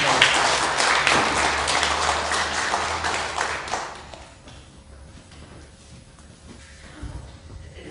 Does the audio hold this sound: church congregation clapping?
yes